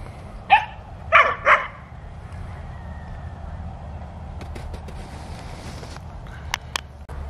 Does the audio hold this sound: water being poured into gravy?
no